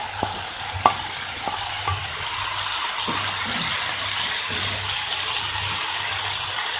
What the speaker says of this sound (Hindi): इसके साथ ही हम आलू ऐड कर देंगे। कैप्सिकम भी ऐड कर देंगे।